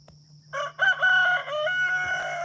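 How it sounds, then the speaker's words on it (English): Chickens and a rooster on a farm around a tracked skid steer, with loud, close clucking and crowing calls in several sustained bursts over a steady low mechanical hum. "I see a chicken's trying to clean the skid steer."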